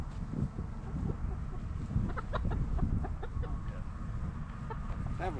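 A flock of chickens clucks and squawks continuously during the merging of two flocks near a coop, with overlapping close calls over a steady rustling backdrop.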